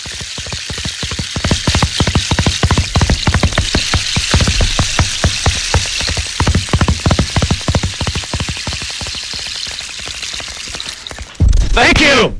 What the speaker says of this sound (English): Horse running in the rain.